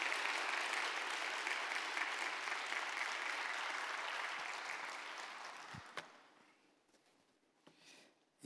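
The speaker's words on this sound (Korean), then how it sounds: "박수로 감사를 좀 표할까요?" A church congregation applauds during a year-end worship service, a broad wash of many hands clapping steadily for about six seconds before breaking off abruptly, leaving a few scattered faint claps and quiet room noise.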